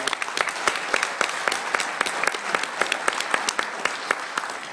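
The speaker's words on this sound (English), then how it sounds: "Give a round of applause for the military families" Crowd at an outdoor political rally applauds military families with steady, energetic clapping, many sharp individual claps standing out over a continuous wash of hands.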